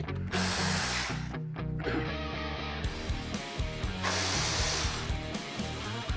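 T30 bolts inside the speaker grill of a Harley-Davidson Road Glide being loosened, with quick bursts of clicking ratchet or driver noise over a steady mechanical hum, close by and fairly quiet, with no talking.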